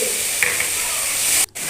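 A splash of water hitting mustard, ginger and garlic paste frying with chilli and turmeric gives a steady loud hiss and steam sizzle, briefly cut off near the end.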